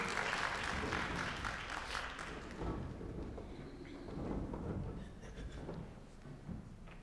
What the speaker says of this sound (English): Let's give them a round of applause as they enter the stage.